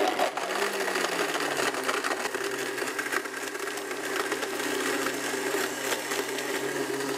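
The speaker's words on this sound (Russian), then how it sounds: "У нас очень мощный блендер, поэтому сейчас мы увидим, насколько важны мощные блендеры" A loud, steady motor whir of a powerful blender with surgical-steel blades at 22,000 rpm, running continuously, with a harsh grinding edge and no pauses.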